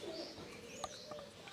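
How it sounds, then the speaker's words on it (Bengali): Faint, soft cooing from pricey ornamental pigeons kept at a garden house, a low murmur rising in a few brief notes over quiet background noise. "অনেক সুন্দর কবুতর কিন্তু এখানে দেখতে পাচ্ছেন"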